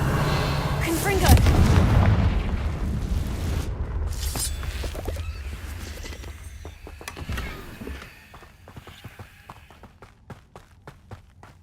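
Confringo fire spells blast in the Hogwarts Legacy video game, a loud booming burst followed by rumbling, then a rapid series of sharp crackling impacts fading out.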